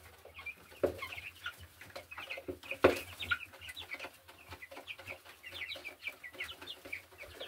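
Quails in a coop give soft, scattered clucks and chirps in quick irregular bursts, faint and close, with a few louder knocks of movement and no talk.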